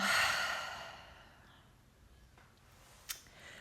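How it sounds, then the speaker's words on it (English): A deep breath let out slowly through the mouth during a yoga practice, a soft breathy rush that fades over about a second, followed by quiet and a faint click. "exhale through the mouth"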